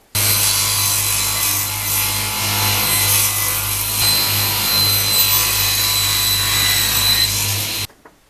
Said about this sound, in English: I can rip the pieces down to width on the table saw.